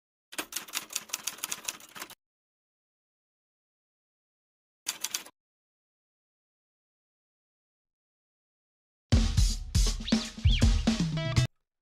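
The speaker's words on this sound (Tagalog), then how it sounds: "typewriter po yun sa mga hindi nakakaalam" Rapid clacking of typewriter keys in a song, a dense burst of strikes for about two seconds, a brief second flurry, then louder full music takes over near the end.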